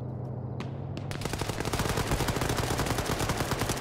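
A firefight in the Arma 3 military video game opens with a few scattered gunshots, then turns into dense, rapid automatic fire that keeps hammering loudly without a break.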